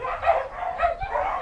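A female hunting dog used for rabbit hunting barks in short, close yips and woofs, three or so bursts over a steady background.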